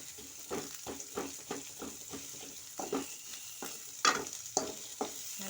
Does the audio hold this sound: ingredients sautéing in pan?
yes